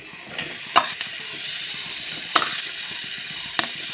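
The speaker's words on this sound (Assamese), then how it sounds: "এতিয়া ইয়াৰ কঁঠালখিনি দি দিলোঁ।" Jackfruit pieces sizzle in hot oil in a pan, a steady close fry broken by three sharp scraping clacks of a spoon stirring against the metal.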